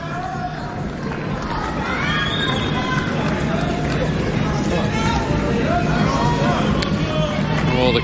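Packed tennis stadium crowd at the Australian Open during Tsitsipas versus Federer, a loud sustained roar of cheering, shouts and whoops filling the whole stretch, with commentary faintly underneath.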